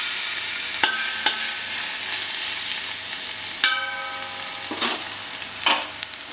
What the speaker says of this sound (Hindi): आपने देखा कि हमारे प्याज जो हैं अच्छे बढ़िया भुन गए हैं।